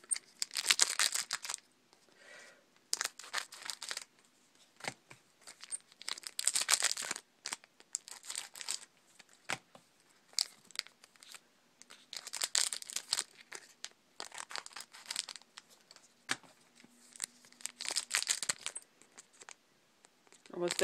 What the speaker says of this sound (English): I'm just gonna just cut the tips from these packs